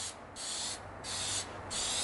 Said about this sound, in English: I'm going to just spray a few lines